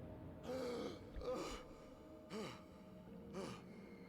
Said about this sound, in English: I hear me breathing.